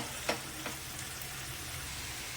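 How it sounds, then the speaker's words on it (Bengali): Potato pieces fry in a pan after turmeric goes in, giving a steady close sizzle broken by two quick clinks of stirring early on. "আলু ভাজাটার মধ্যে হলুদ দিয়ে দিচ্ছি।"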